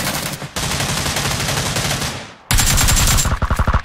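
Rapid bursts of video game gunfire, shotgun blasts in quick succession, crack loudly and close, broken by a short pause before a second dense volley.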